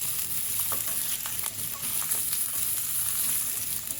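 Washed, peeled large potato pieces sizzle steadily in a pan, with a continuous bright frying hiss and a few soft stirring scrapes, close and moderately quiet.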